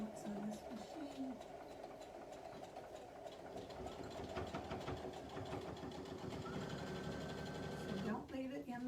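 A sewing machine stitches the seam of a hot bowl cozy with a steady, quiet motor hum and a rapid needle patter that runs alone for several seconds, then briefly stops.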